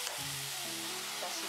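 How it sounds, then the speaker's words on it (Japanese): Sake sizzles in a hot pan as its alcohol cooks off while simmered dried daikon with soy meat is prepared, a steady close hiss of frying without a break. "酒をだいたい大さじ1杯ぐらい で、ちょっとアルコールを飛ばして"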